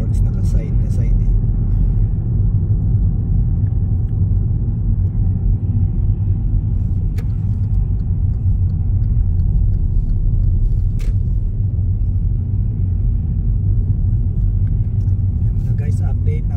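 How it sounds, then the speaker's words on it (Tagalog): Slow bumper-to-bumper road traffic beside roadworks, a constant low engine and tyre rumble heard from inside a vehicle, with a few faint clicks and talking over it. "ito traffic talaga"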